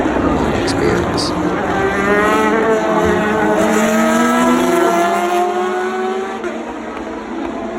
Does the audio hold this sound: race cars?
yes